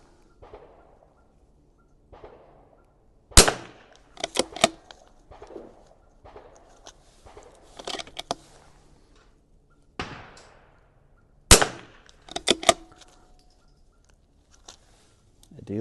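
A Vudoo V22S .22LR rifle fires at a 100-yard range: two sharp, loud cracks stand well apart, with quieter handling knocks and faint background sounds between them.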